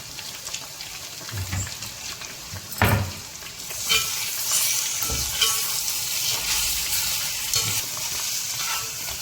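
Pepper fry sizzling in oil in a pan while being stirred, a continuous bright hiss with periodic spoon scrapes and knocks, close and fairly loud, no talk.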